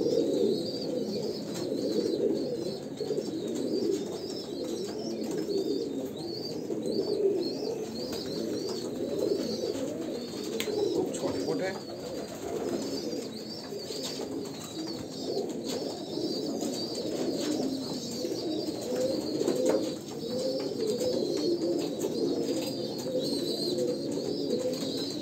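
Kalanka pigeons coo in a low, continuous murmur from a loft, many overlapping burbling calls held at an even level, with faint chirps above and no speech.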